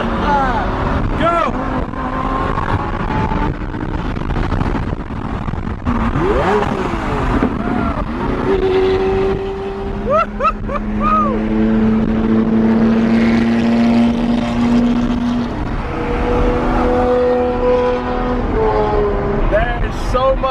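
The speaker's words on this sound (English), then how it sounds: "There is so much noise on this road right now." Supercars rev and accelerate along a busy Dubai road, their loud engine roars rising and falling one after another. The vehicles pass close amid wind buffeting, and people talk and shout excitedly over the noise.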